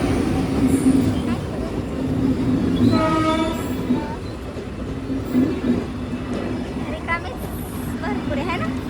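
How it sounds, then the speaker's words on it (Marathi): A passenger train with AC three-tier, sleeper and pantry cars rumbles past a railway crossing, close and steady, and sounds a long horn midway as distant voices murmur underneath. "आता बघू आली रेल्वे तर दाखवतो तुम्हाला."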